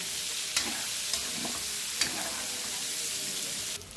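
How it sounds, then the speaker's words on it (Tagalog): Onion and garlic sauté in oil in a pan, cooking for pork afritada, with a continuous bright sizzle and a few soft scraping clicks as a utensil stirs them, heard up close. "Buyas bawang mga idol. Mikos mga idol. Para sabay silang mag-brown na."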